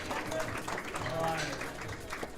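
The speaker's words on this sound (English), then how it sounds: "Round of applause for Antoinette." Audience applause at a women's weightlifting competition, a steady wash of clapping from a crowd, moderately loud, with an announcer's voice over it.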